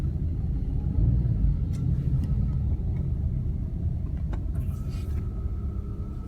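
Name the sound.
heavy road traffic at LAX airport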